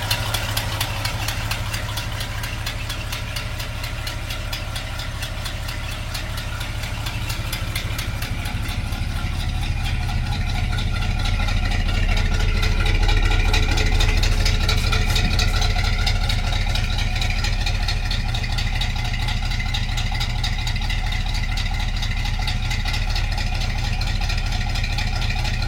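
A truck engine idles with a small exhaust manifold leak, giving a steady rapid ticking puff over a low rumbling drone that swells slightly midway and holds close and loud.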